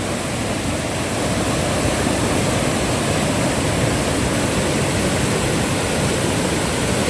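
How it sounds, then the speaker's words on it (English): Loud, steady rushing of a noisy river in the hills of Oxford, Manchester, Jamaica, a dense unbroken roar of churning water close by with no voices. "So I'm gonna take you closer to the river, closer to the water so you can see much better."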